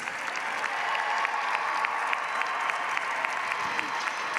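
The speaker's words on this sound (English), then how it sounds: "let's give another round of applause for all of our graduates" A large crowd at a Grand Valley State University commencement claps steadily for the graduates, a continuous even wash of applause that stays at the same level throughout.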